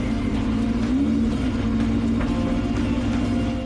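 An engine from Paul Newman's car collection runs at a steady, loud, throaty idle with small surges in revs, close to the listener, and no voices over it.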